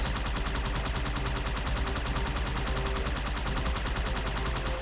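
Halo 2 gunfire on Legendary difficulty in the Uprising mission, taking pot shots at brutes: a dense, steady, rapid automatic stream of loud shots running continuously from start to finish.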